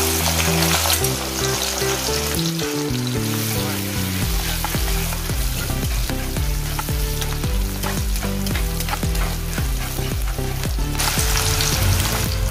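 Finely chopped onion goes into hot oil with cumin seeds and a bay leaf for a spinach and gram-flour curry, giving a loud, continuous sizzle with scraping stirs, close up, under steady background music.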